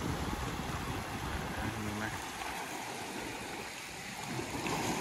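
Floodwater pours through an old watercourse channel across a flooded area, a steady, moderately quiet rushing and gurgling that continues without a break.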